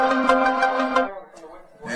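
A phone ringtone plays a bright, repeating electronic melody at moderate volume for about a second before it stops, with some faint background sound after.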